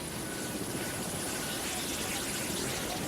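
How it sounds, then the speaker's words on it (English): A helicopter gunship roars loudly and steadily, its dense rotor and engine noise filling the whole moment without a break. "Like Vietnam, a conflict dominated by the helicopter gunship."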